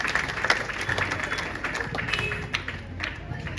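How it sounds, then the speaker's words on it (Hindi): An audience at an event clapping to welcome a speaker to the stage, scattered individual claps and a thinner round of applause with voices and movement mixed in, moderately close. "जोरदार ताली से सर का स्वागत करते हैं।"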